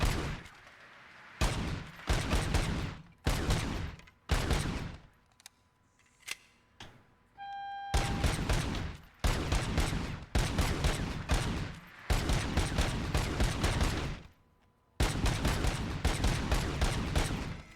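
Gunfire rings out in a video game, loud rapid bursts in repeated volleys separated by short pauses, with a brief electronic tone sequence in between.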